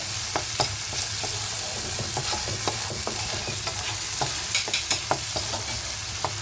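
Masala spice paste sizzles and fries steadily in oil while it is cooked down for prawn-stuffed potol dorma, with a low continuous crackle broken by sharp scraping stirs throughout. No voices.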